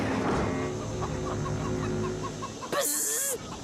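A chicken clucks in a rapid series of short calls, with music and a sudden bright electronic buzz near the end.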